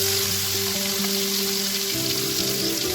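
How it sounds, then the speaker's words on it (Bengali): Bhetki fish frying in hot mustard oil in a pan, a steady close hissing sizzle with faint crackles and a low background hum throughout. "সরষের তেলটা ভালো করে গরম হলে আমি মাছগুলো ফ্রাই করে নেব।"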